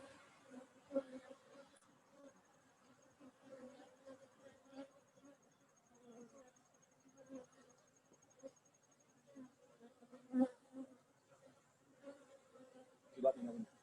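Honeybees buzz faintly around an opened Dickinson hive during a hive check, a soft continuous hum with scattered louder passes and quiet talk in the background.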